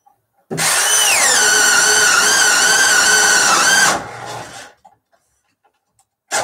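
A power drill bores into a wooden stud, one loud sustained run of about three and a half seconds with the motor pitch wavering under load, then it cuts off and a few faint knocks follow.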